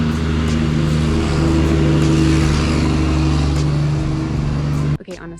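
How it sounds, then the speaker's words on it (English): Busy city road traffic rumbles close by, engines droning and revving steadily as vehicles move past, ending in a sudden drop-off with a brief clunk. "There is so much traffic."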